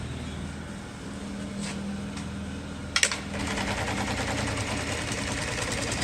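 An LK1920HA industrial sewing machine running slowly as it stitches a leather tab, a steady close mechanical whir with a low hum and a brief clack partway through, after which the stitching continues.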